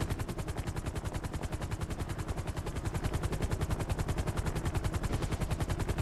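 A helicopter in the video game GTA Online thrums with a fast, regular rotor chop, loud and unbroken throughout, with no talking.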